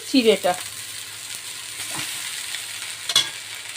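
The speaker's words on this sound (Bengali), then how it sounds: "চিড়েটা দিয়ে আমি ভালো করে নাড়িয়ে নেব।" Flattened rice is stirred into a pan of fried peanuts, onion and potato, giving a soft continuous frying hiss with sharper scrapes of the spoon at the start and near the end, heard up close.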